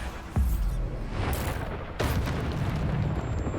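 A Bombarda explosion spell from Hogwarts Legacy bursts with a sharp boom near the start, a second blast follows about a second and a half later, and the low rumbling fallout continues loudly with no talk.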